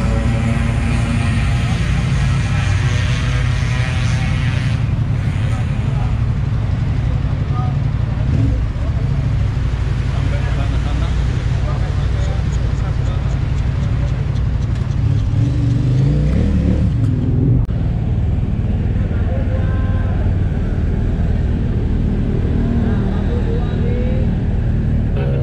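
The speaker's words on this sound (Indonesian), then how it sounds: "Penuh sekali motor-motor dari Versys." Kawasaki Versys motorcycles at a rally meetup in West Java ride past in a continuous, loud engine drone, with steady rumbling and rising revs from several bikes close by throughout.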